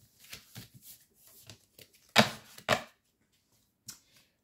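A deck of tarot-style cards shuffled by hand for a card reading, giving soft, quick riffling rustles and a few sharper flicks, close and fairly quiet, with pauses between.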